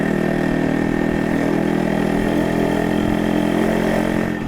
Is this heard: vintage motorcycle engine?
yes